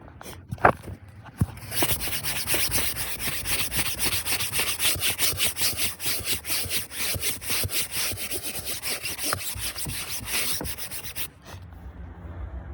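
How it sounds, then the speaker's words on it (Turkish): Car seat headrests, removed from the seats, are scrubbed clean with rapid, continuous back-and-forth rubbing strokes that are loud and close, running steadily for about ten seconds before stopping abruptly. "Başlıkları çıkarttık. Başlıkları ayrı temizliyoruz."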